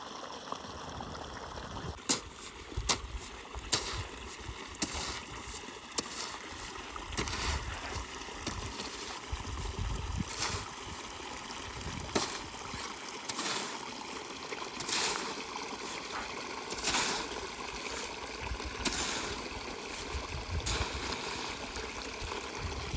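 Irrigation water from a tank flowing along a channel into a sesame field in a village in summer, a soft continuous trickle and gurgle with scattered knocks and clicks, fairly faint.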